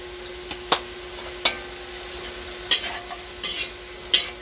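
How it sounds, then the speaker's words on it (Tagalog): Vegetables for pancit being sautéed in a pan, with sharp, sparse clicks and scrapes of a utensil against the metal over a quiet steady hum and no speech. "Gisa-gisa ulit."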